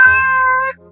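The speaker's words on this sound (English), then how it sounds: "Why is Kitty yelling at me?" A loud, close cat meow from a video game, a single drawn-out tonal cry lasting most of a second before cutting off.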